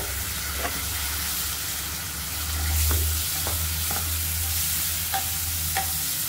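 Tomatoes and masala frying in a pan, a continuous hissing sizzle with occasional spatula scrapes and taps against the pan, with a low hum swelling partway through and no talk.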